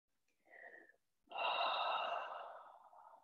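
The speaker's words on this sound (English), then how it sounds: "clearing out with each exhale" Breathing during a yoga flow: a short, faint breath sound, a pause, then a long, loud, airy exhale that slowly fades, with no talking.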